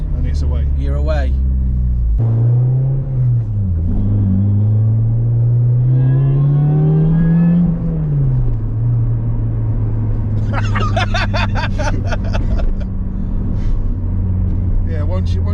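A supercharged Toyota Corolla T-Sport Compressor engine revs with a steady, rising hum under the driver's talk. A low engine note climbs for several seconds, then eases back, with other voices joining later.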